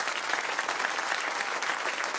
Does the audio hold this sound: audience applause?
yes